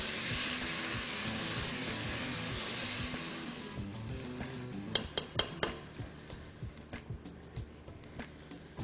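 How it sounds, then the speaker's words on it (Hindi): Eggplant mixture with onion frying in a pan: a steady sizzle at first that dies down, then a series of sharp metallic clinks and scrapes from stirring, close and fairly quiet. "इसको अच्छी तरह फ्राई करें।"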